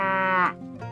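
A single cow moo in the Nintendo Switch farming game Farm Land, loud and close, rising then trailing off in under a second, with a faint follow-up sound at the end.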